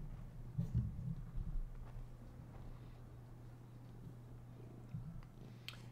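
A cat purrs softly and steadily up close, a low continuous rumble with a few brief louder bursts near the start, in an otherwise quiet room.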